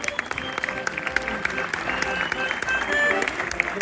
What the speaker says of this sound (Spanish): Un aplauso para ella.